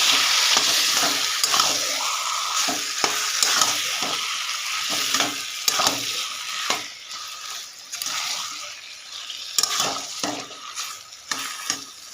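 Taro leaves with spices are stirred in a frying pan with steady scraping and clinks under a continuous loud sizzle, with no voices.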